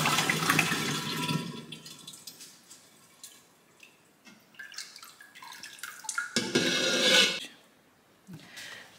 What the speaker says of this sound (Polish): Dolejemy tylko tyle wody jeszcze